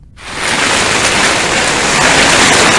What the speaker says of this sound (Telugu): భారీగా వర్షం పడుతుంది.